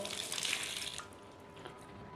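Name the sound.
water poured while washing feet during wudu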